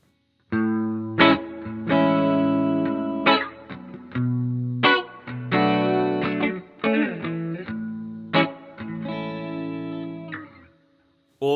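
Electric guitar played through a Bias FX 2 blues preset with reverb, rendered as a series of ringing, harmonically rich phrases and chords that sustain and decay into a reverberant tail, loud and up close with short gaps between phrases.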